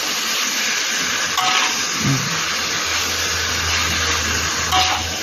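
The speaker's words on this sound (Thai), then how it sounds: "ผัดเพื่อให้หอมนะคะ" Pieces of pork belly stir-fry in a hot pan for Thai palo stew, giving a loud, continuous sizzling hiss with a few scraping stirs and a low hum beneath.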